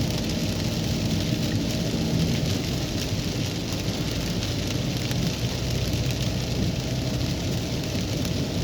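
Heavy rain on the Bolu road near Mudurnu drumming hard and constantly on a nearby surface, a loud unbroken roar of falling water with nobody speaking.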